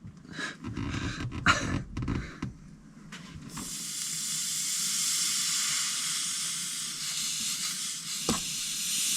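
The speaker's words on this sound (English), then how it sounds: "Steam is hot." Steam hisses steadily and loudly during a horizontal evaporator coil replacement, a broad continuous rush that starts after a few seconds of clanking work noises and holds for the rest of the stretch, with a brief knock near the end.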